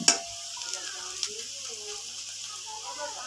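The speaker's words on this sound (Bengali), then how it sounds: "পেঁয়াজ যখন লাল হয়ে যাবে এবং এদিকে পেঁয়াজগুলো লাল হয়ে যাচ্ছে।" Onions frying in oil for a lentil dish, a steady close sizzle with a sharp clink at the start and soft stirring scrapes throughout.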